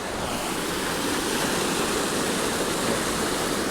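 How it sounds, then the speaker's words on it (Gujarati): Loud, steady rush of fast-flowing water, a continuous broadband roar of a flooded river pouring over the top of a bridge, with no voices. "આખું પુલ ઉપરથી પાણી જાય છે"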